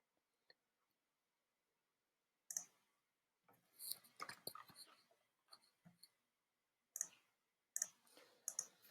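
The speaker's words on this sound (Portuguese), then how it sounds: "Vou digitar aqui o usuário." Fingers type a user code on a computer keyboard in quiet, scattered bursts of light clicks separated by pauses, close by and with nobody speaking.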